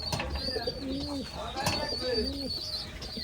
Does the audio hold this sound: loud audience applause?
no